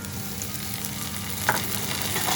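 Garlic and chili sauce stir-fried together in a pan for ampalaya con carne: a constant close sizzle with scraping stirs and one sharper clack of the utensil partway through, no talking.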